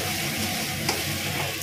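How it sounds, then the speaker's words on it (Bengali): Potatoes and bitter gourd frying in a pan give a steady, close hiss and sizzle with faint stirring, and no voices. "তো এই দেখুন রান্না বান্না চলছে, আলু আর উচ্ছে ভাজি"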